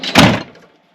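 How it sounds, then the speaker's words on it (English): Kitchen drawer in the rear of an N70 Toyota Hilux touring setup sliding open with a single loud thunk, then a short fading rattle, with no talk over it. "Drawer just opens up."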